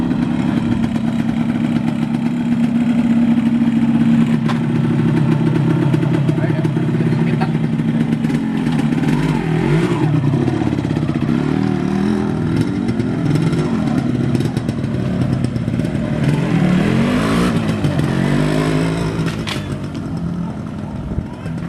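Riding a black 2009 Yamaha RX King motorcycle, the engine runs continuously and loud nearby, its pitch rising and falling as the throttle is opened and eased through the ride.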